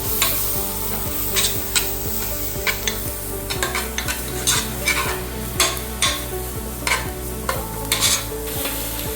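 Mushrooms sauté in a pan for mushroom soup, a steady close sizzle broken by regular scraping and clinking of a spoon stirring against the pan.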